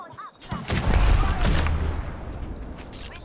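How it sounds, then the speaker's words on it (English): Sniper fire in Apex Legends, with loud booming shots and impacts clustered in the middle and sharper cracks later on over a heavy low rumble. A voice talks faintly underneath. "I'm getting sniped"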